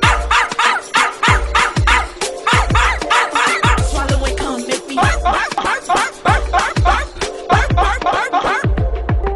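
Dog woofing in repeated rhythmic barks layered over a hip-hop track with rap vocals, the woofs loud and close, timed against the beat of the music.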